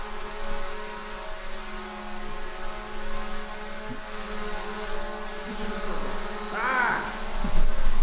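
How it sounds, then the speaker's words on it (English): A hovering drone's propellers make a steady, continuous whine and buzz throughout, fairly close, with pitch shifting slightly as it moves outdoors near a home being marketed for sale. "We have a drone. That's a drone."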